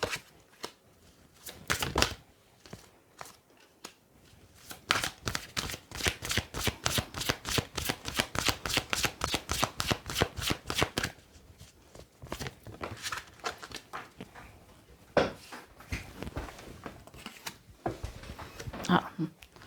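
Playing cards shuffled at a table during a card reading: a long run of rapid, crisp riffling clicks, fairly close, with softer handling sounds and some talking before and after.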